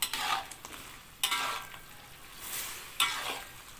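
A spoon stirs fried sweet potato doughnuts through thick sugar syrup in a pan, giving soft repeated scraping sweeps with a faint sizzle underneath.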